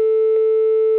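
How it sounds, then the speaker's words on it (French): A single steady electronic telephone ringing tone, the first ring of an outgoing call, sounds continuously, loud and clear, with no other sounds. "Première sonnerie."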